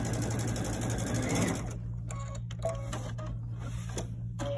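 A sewing machine runs in a quick continuous whir while stitching quilt blocks right sides together, then stops, leaving soft clicks and handling sounds over a steady hum.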